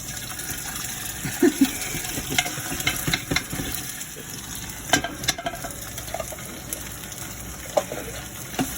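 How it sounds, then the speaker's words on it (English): Paste frying in a pan while being stirred, giving a steady soft sizzle broken by scattered scrapes and clinks of the utensil against the pan. "And let's fry this up. Fry the paste."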